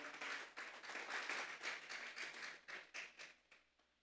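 A church congregation claps in a dense, rhythmic burst of hand clapping, distant and faint, fading out over the last second.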